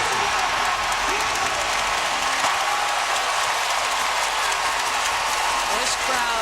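A basketball arena crowd roars and cheers during a Jazz at Spurs game, a loud continuous wash of noise with clapping, while a commentator talks over it.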